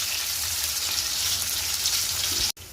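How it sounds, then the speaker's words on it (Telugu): Onions frying in a pan for chicken biryani, a steady loud sizzle throughout that cuts off abruptly near the end. "ఉల్లిపాయ బాగా ఎర్రగా కాలాలి."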